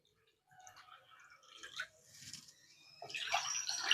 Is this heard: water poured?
yes